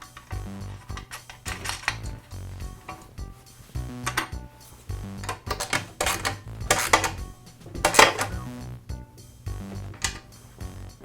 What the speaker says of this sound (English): I'll resecure the 2 halves of the tine guard with the bolts.